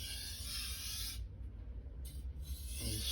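A Santoku or Nakiri knife blade slides across a Chosera/Naniwa whetstone, a soft rasping hiss of steel on wet stone in smooth strokes, close and quiet, broken by a brief pause between passes.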